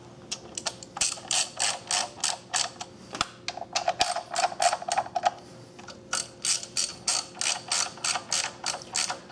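A hand ratchet turns head bolts on a Suzuki Forenza cylinder head, giving a close, quiet run of rapid clicking bursts in uneven rhythm, with short pauses between strokes and no talking.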